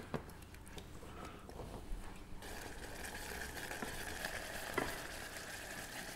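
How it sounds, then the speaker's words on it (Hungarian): Flour roux thinned with a splash of light stock and stirred smooth in a pot for horseradish soup, giving a steady close wet sizzle and scraping that thickens halfway through, with no voices. "Simára keverem."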